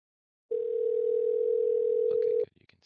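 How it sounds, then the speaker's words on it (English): A Zoom phone call placed from a computer gives a single steady dial tone lasting about two seconds, loud and clean, then cuts off into a few faint clicks. "I am going to call Christine because I use Zoom phone on my computer"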